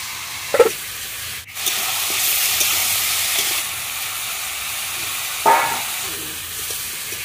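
Garlic hits hot oil in a pan for village-style Bengali chicken kosha, giving a steady loud sizzle and frying hiss with brief stirring scrapes, close up and without talk.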